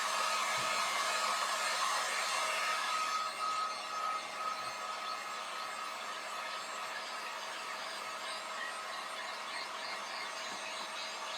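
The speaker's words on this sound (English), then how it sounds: "And then I'm just going to dry this with my heat gun." Heat gun blowing steadily close up while drying a craft project, a continuous broadband airy whoosh that lasts throughout, slightly louder and brighter for the first few seconds before settling into an even hum.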